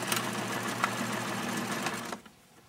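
A sewing machine stitching a seam on a fabric doll runs steadily and close for about two seconds, then stops abruptly, leaving near silence.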